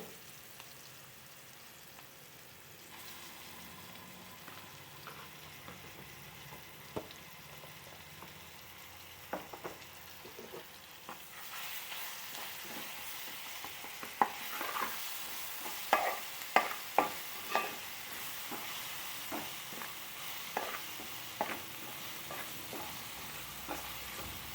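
Ginger garlic paste fries with onions in a pan for a bitter gourd fry, a soft sizzle that swells into a louder, brighter hiss halfway through, punctuated by repeated spatula scrapes and taps.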